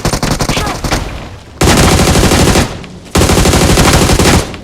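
AUG rifle gunfire rings out in a battle royale video game as three long, loud automatic bursts of rapid shots, separated by brief pauses.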